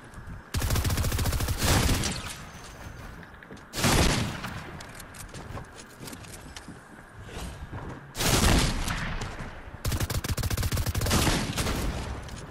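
Fortnite gunfire comes in several loud automatic bursts with rapid, dense shots, separated by quieter stretches of game ambience.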